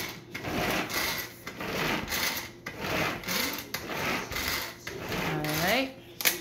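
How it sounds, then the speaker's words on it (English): A PowerChef pull chopper chops salsa ingredients in quick pull-cord bursts, each a whirring, rattling spin of blades against the bowl and lid, repeated several times close up. Faint speech sounds sit in the background. "put the lid back on, and you're gonna chop away again"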